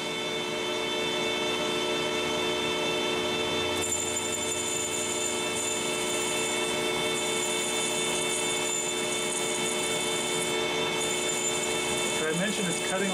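A high-speed rotary power tool runs steadily as it cuts stainless steel on a large predatory fishing lure, giving a continuous close whine with a shrill band that rises partway through and fades near the end.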